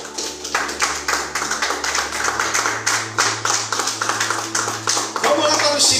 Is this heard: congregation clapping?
yes